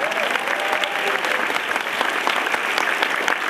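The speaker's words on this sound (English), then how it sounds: "big round of applause for his arm there" An audience at a Philly Comic Con Q&A session applauds, a dense, steady round of clapping that holds at full strength throughout, with faint crowd murmur underneath.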